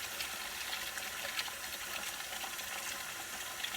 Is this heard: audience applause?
no